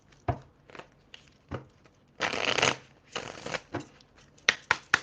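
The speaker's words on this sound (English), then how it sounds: "Let's pull these oracle cards and see what's going on with Scorpio." A deck of oracle cards being shuffled and pulled, with sharp flicking snaps and a couple of longer riffling bursts, close and clear with no talking.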